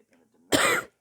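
A single sharp, close cough follows a faint murmur, loud and brief.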